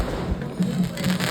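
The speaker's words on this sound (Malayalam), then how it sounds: "പടക്കം പൊട്ടിക്കുന്നുണ്ട്" At a Kerala temple festival procession, where the goddess arrives on an elephant, firecrackers go off in several sharp bursts over a rumbling crowd background.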